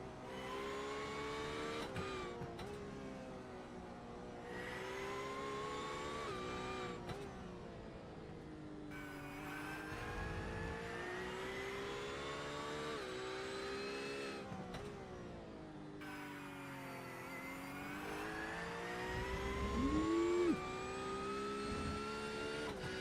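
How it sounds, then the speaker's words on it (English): GT3 race cars at a GT3 Open round, including a white Porsche, screaming through gears with straight-cut gearbox whine, repeated upshifts and downshifts as cars pass, loud and continuous without talk. "Those straight cut gears sound so good."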